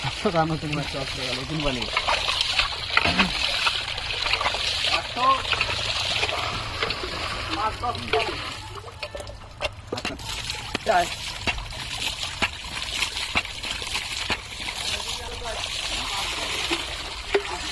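Water runs and splashes steadily throughout, with a person talking over the constant flow.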